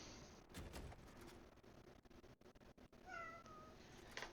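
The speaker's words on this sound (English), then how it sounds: "I have a cat that just wants attention." A house cat meows for attention, one faint plaintive meow near the end over low background noise and scattered clicks, with no talk.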